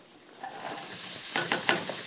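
Onions sizzling and spattering in hot oil in a pan while cooking chicken curry, a steady close hiss with a few sharper crackles and stirring scrapes.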